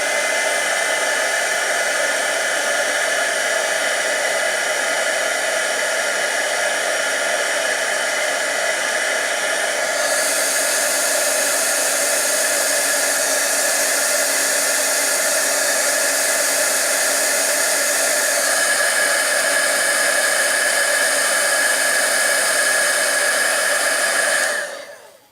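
Heat tool blasting continuously to melt embossing powder on a tin, a loud, close, steady whooshing hiss of hot air held for over twenty seconds before cutting off.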